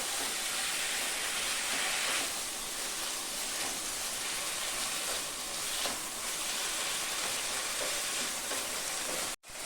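Banana flower frying in a cooked-down spice paste, a loud, steady, dense sizzle with faint stirring scrapes throughout, until an abrupt stop at the end.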